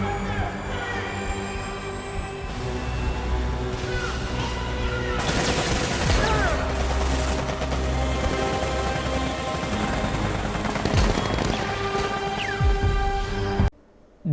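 Sustained rifle gunfire fills a film battle scene, with dense overlapping shots and bursts over a steady roar that continues almost unbroken before cutting out abruptly near the end.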